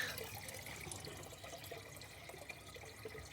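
Water pours from a watering can in a tomato garden, a soft continuous splashing and trickling heard faintly at a distance, steady throughout with no voices.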